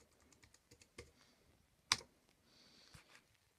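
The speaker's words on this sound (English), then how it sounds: "Let me just see if I can type in my password correctly." Password typed on a computer keyboard during a review of the Basis 4 operating system build, heard as faint, scattered key taps with one sharper click near the middle, no talking.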